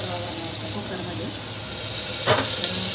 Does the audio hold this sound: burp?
no